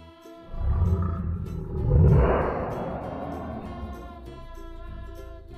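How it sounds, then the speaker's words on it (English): A lion roars loudly and close, one deep, rumbling roar swelling and then fading, with quiet music underneath and no talking. "L for lion."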